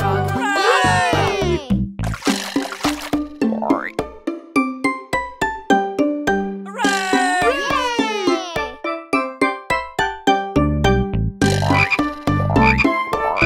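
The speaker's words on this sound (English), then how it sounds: "Now there is one green speckled frog." Cartoon green speckled frogs croak in a children's nursery-rhyme song, bouncy repeated croaks in a steady rhythm woven through cheerful music and sung vocals.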